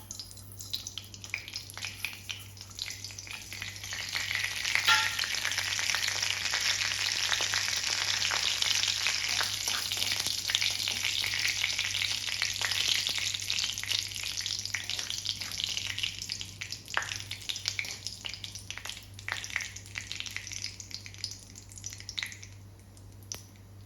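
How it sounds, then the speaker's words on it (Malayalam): Mustard seeds sputter in hot coconut oil, a dense, steady frying hiss peppered with quick crackles and tiny pops that swells early, holds for a long stretch and then thins out toward the end, heard close with a low background hum. "എണ്ണ ചൂടായി അതിലേക്ക് നമുക്ക് ഈ കടുക് കൊടുക്കാം"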